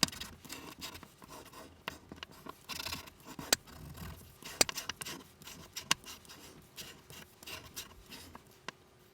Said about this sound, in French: avec le plioir, je fais bien adhérer la colle